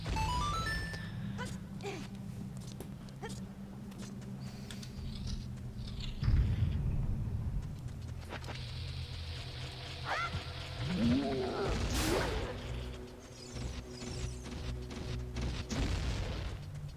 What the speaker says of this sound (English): so we'll just drop a bomb here